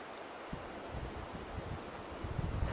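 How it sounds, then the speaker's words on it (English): Wind blows across a campground at Skull Hollow in Oregon's high desert, a steady broad rush with low gusty buffeting on the microphone, moderately loud and continuous, no talk. "when I sit here with the wind"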